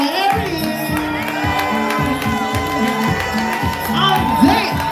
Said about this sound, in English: Start clapping, start clapping, start.